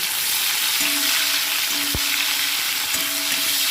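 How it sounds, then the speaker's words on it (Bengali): Tomato sizzles and fries in hot oil tempered with whole spices, a steady loud crackling hiss with a few stirring scrapes, no talking. "ফোড়ন দিয়ে দিলাম তেলের মধ্যে দিয়ে এর মধ্যে আমি টমেটোটাকে কিন্তু এখন ছেড়ে দেব"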